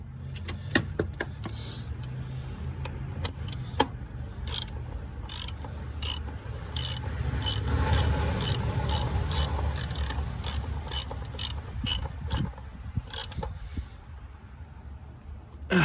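A socket ratchet tightens a bolt on a vehicle, with rapid clicking bursts of the pawl repeating in quick runs, close and fairly loud, alone with no talking.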